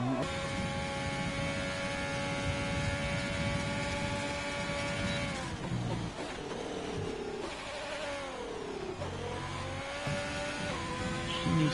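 Alfa Romeo race car driving through a corner, engine note droning at high revs, dipping as it slows for the bend and then climbing again, loud and continuous.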